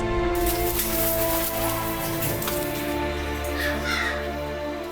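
Rare blue Spix's macaws call in a continuous harsh, raucous chorus, several birds squawking close by over a steady rain-like hiss.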